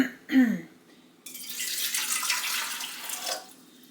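Warm water pours into a Curtis Stone bread maker pan, a steady splashing stream after a brief squeak, fading near the end.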